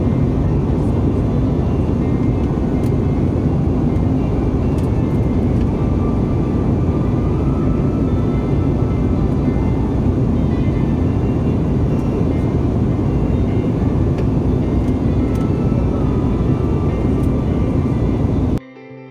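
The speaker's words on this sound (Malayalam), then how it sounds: "അപ്പം ഞാനിവിടെ ഫ്ലൈറ്റിലേക്ക് കയറുകയാണ് എയർപോർട്ടിൽ നിന്ന്" Steady, loud airplane engine roar at an airport while passengers board a flight, a continuous broadband rumble that holds without a break for nearly twenty seconds.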